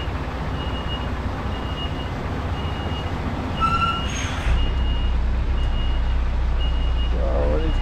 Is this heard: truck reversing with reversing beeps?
yes